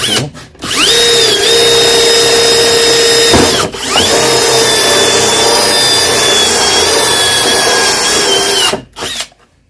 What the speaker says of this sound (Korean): 여기 하나 뚫고